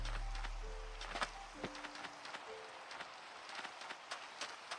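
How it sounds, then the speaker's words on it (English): Rain falls in a Minecraft modpack world, a steady soft patter with scattered sharper drops, plus a few short game tones, quiet and with no talking. "Of course, it's been raining the entire time since we started the pack."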